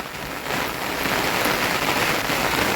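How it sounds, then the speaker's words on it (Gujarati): Heavy rain pours down steadily and loudly, a dense continuous hiss of downpour on surfaces with no voices. "એટલો વરસાદ પડ્યો છે આજે, અને હજી ચાલુ ને ચાલુ."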